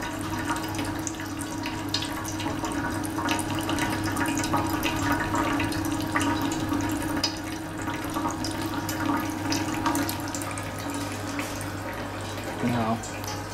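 Liquid streams steadily from a 3 kW continuous alcohol distiller processing a sugar-based wash, a constant close trickling hiss with a low steady hum beneath it, a brief squeak near the end.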